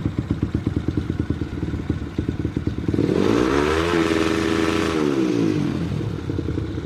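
A motorcycle engine fitted with a UMA Racing CDI idles with a chugging pulse, then rises and holds a loud, steady high rev near 10,000 RPM before easing back down, close up.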